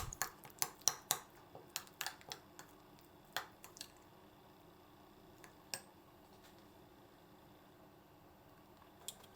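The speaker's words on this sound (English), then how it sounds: "just mix your desired amount of tarako with mayonnaise" Tarako mixed into mayonnaise for an onigiri filling: a run of sharp spoon clicks and soft squishy taps against a bowl, dense at first and then thinning to occasional knocks over a quiet room.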